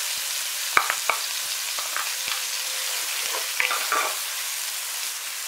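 Onions and garlic frying in a pot for a Puerto Rican beef stew, a steady close sizzle broken by sharp clinks and scrapes of stirring, with no talk.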